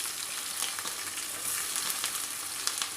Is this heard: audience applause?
no